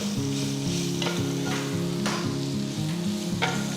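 Grated raw mango goes into a hot pan with curry leaves and sizzles, a steady close frying hiss with stirring under light background music, with no talk.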